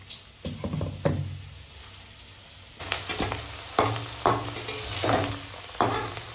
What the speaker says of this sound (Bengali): এখন আলুটা একদম সোনালি করে ভাজা হয়ে গেছে